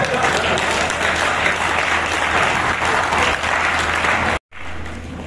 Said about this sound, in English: Even for that introduction, your clap is too small.